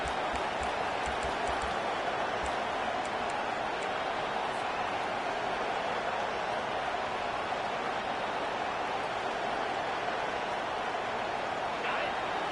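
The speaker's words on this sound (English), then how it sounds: "The roar of the crowd trying to fuel this defense to keep them pinned in their own end" College football stadium crowd at Tennessee vs Texas roaring steadily as the defense tries to pin the offense deep, a dense, loud, unbroken wash of cheering with a few sharp claps early on.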